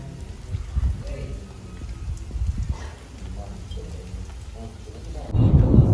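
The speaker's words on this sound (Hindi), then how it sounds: "ये देखे जी बादल बहुत ज्यादा गरज रहे हैं डर लग रहा है बहुत ही जोर की आवाज आ रही है" Heavy rain pours steadily during a village thunderstorm while thunder rumbles low, swelling into a loud roll at the end. A voice talks over the storm.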